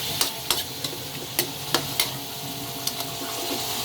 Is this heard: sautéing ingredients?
yes